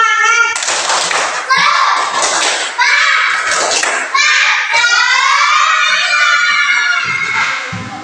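Schoolchildren in a classroom perform the tepuk semangat clapping chant, bursts of rhythmic claps mixed with loud, sung and shouted children's voices, lively and close.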